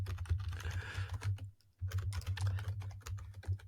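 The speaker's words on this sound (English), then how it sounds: "Jasmine has now on her screen, except for she's typing, so it's probably ChatGPT again." Fast, steady typing on a computer keyboard, close and clear, with dense clicking keystrokes and one brief pause midway.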